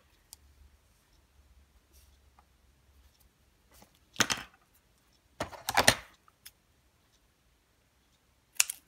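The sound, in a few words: trimming cardstock for a packing box card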